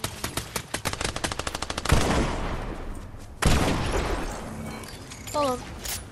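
Rapid bursts of Fortnite gunfire in a trios match: a quick string of sharp, evenly spaced shots, then two heavy blasts each trailing into a noisy decay, with voices talking over the action.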